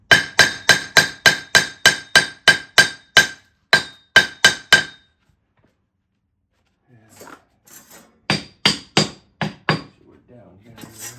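A hammer strikes repeatedly in a fast, even rhythm, sharp metallic clinks up close during fireplace removal; after a pause, another quick burst of blows follows with faint movement between.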